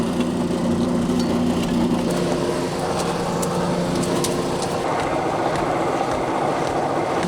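A clutch-driven mechanical power hammer running in a workshop where plough shares are forged, giving a continuous loud mechanical drone with low rumbling tones and faint intermittent clanks throughout.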